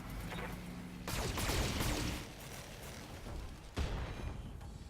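Mech lasers firing in the BattleTech video game, a burst of bright crackling blasts followed by a second sharp shot, moderately loud with no talk.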